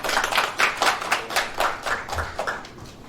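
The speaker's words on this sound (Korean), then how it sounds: "박수로 청하겠습니다" An audience at a presidential candidates' debate forum hosted by a journalists' association applauds in distinct, rhythmic claps, close and moderately loud, pulsing unevenly and thinning toward the end.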